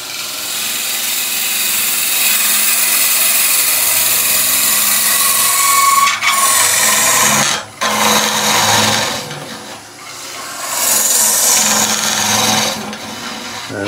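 A natural edge wooden vase being hollowed on a spinning lathe, a loud, steady whirring roar with a gritty scraping tool cut, briefly dropping away for moments before resuming close and strong.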